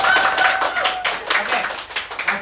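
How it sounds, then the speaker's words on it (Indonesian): An audience claps in a steady burst for a pastor introduced at an Indonesian Christmas program, the clapping fairly close and full through the whole stretch, with a little speech mixed in. "Beri tepuk tangan."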